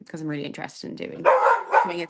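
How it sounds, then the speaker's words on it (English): A pet dog barks in a home during an online meeting, several loud close barks coming in bursts right after a person speaks. "Sorry, that's my dog."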